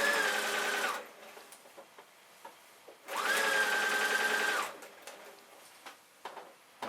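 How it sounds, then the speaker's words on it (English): A sewing machine stitching front pocket bags on a pair of jeans, running in two close bursts of rapid, even whirring about a second and a half long each, separated by quiet pauses with small handling clicks. "And just stitch right along until you reach this side"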